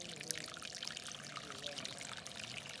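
Water pours steadily into a sand erosion model built as a catastrophic-flood canyon demonstration, a soft continuous trickling stream heard close and fairly quiet throughout.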